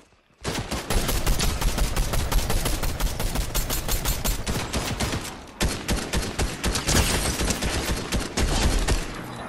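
Video game shotgun and weapon fire in Fortnite, a dense, loud, continuous barrage of rapid shots with a brief dip midway before the firing resumes just as hard.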